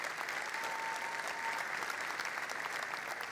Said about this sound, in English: Give yourselves a real round of applause.